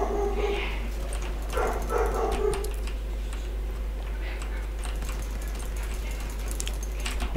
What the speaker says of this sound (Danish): Og der er en hund, der går.